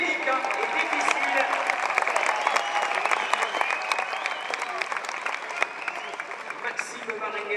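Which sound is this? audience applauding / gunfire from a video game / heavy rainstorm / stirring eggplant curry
audience applauding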